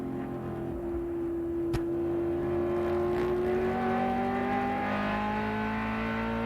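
A Corvette GT race car at Mosport, its engine note rising steadily as it accelerates, heard at moderate distance with a clear whining tone.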